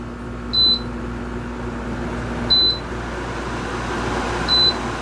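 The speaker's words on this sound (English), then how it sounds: "That controls your fan speeds." A VEVOR tower fan emits three short, clear electronic beeps, evenly spaced about two seconds apart, as its speed setting is changed, over a steady low hum from the running fan.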